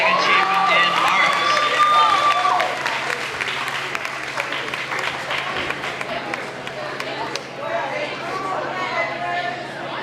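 Audience applause at a school moving-on ceremony honouring art achievement, a sustained patter of many hands clapping with cheers and chatter mixed in, the loudest burst at the start, then easing slightly.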